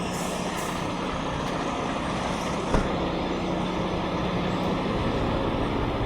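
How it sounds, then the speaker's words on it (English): A semi truck idles with its engine left running at a truck stop, a steady low rumble throughout with one brief knock midway and no talking. "Leave the truck running this time."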